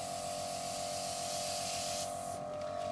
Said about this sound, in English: And it's spraying this paint no problem.